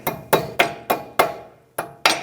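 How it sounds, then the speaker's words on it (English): Seven sharp metallic hammer taps on a front CV axle of a 2008-2013 Nissan Rogue ring out close by in a quick, fairly even rhythm, each strike decaying briefly before the next. "I'll just take a hammer, give it a tap"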